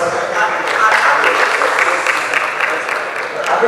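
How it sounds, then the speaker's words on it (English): A university engineering school audience gives a sustained round of applause, a dense wash of many hands clapping at once with crowd murmur underneath, steady and fairly loud throughout. "Can we give a round of applause, please?"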